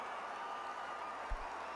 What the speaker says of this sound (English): And the cheering will begin.